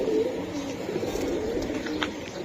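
A red Giribaz hen pigeon of an old breed coos in soft, low repeated phrases close by, with a few faint chirps from other birds around it.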